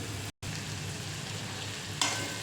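Chickpeas with spices frying and being stirred in a pan as a soft, steady sizzle, briefly cut out once, with a sharper scrape of the spoon near the end.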